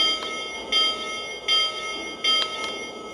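A Lionel toy train locomotive bell rings in a steady repeating pattern, sharp metallic clangs spaced evenly over constant background hum.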